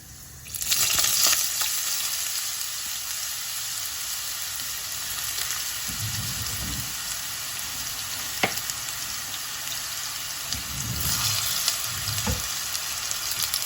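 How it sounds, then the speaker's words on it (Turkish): Steady oil sizzle of potatoes frying, loud and continuous, with occasional clinks and stirring bumps; no voices. "Şimdi patatesi kızartacağım."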